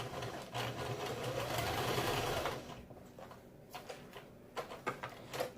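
A sewing machine stitches over mask elastic, a fast mechanical whirring run for about three seconds before slowing into softer, uneven clicks and short bursts as the fabric is handled.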